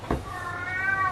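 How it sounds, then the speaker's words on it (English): A vocal Bengal cat named Henry gives a single drawn-out meow-howl indoors, fairly close and clear, rising and holding briefly with no talk. "if you can hear in the background now, my cat is thanking me for his tea."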